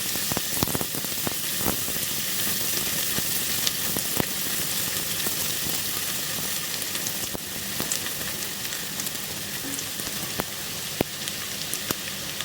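Chopped onion sizzles in a pan with garlic already fried brown, a steady close hiss of frying with occasional sharp crackles and taps throughout, no talking.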